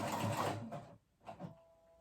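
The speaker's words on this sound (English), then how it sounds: "go back with it a zigzag stitch and sew over it" Close whirring burst of a sewing machine running a zigzag stitch over a seam allowance on a cardigan, stopping briefly, then two short quieter runs.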